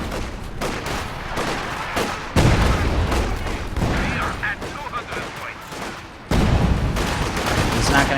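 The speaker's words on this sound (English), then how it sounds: "Su-76 barrage into the house." An Su-76 artillery barrage pounds a house in the strategy game Company of Heroes, heavy booms and crackling gunfire dense and continuous beneath a commentator talking.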